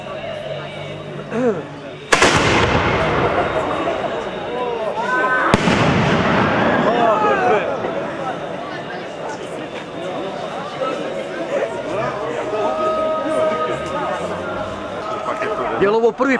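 A Ramadan cannon fires at a large outdoor iftar gathering in Novi Travnik. Two heavy booms a few seconds apart roll and echo away, with crowd chatter and a voice continuing underneath.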